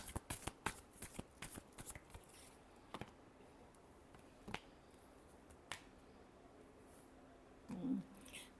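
Close, quiet shuffling of a deck of tarot cards. Crisp riffles and flicks come in a quick cluster at first, then thin out to a few sparse taps, ending with a soft handling sound.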